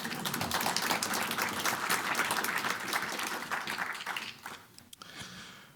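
A live audience claps at a talk, a dense, loud burst of many hands that holds steady for several seconds before thinning and fading near the end.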